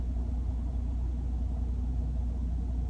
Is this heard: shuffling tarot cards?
no